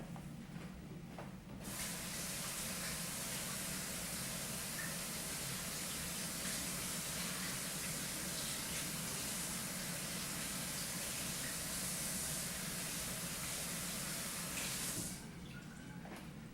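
A kitchen faucet runs for about thirteen seconds while vegetables are rinsed, a steady, close, hissing stream that starts and stops cleanly with no talking.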